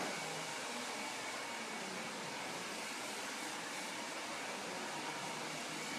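A steady, loud whooshing hum of a hair dryer blowing continuously without pause, with no voices over it.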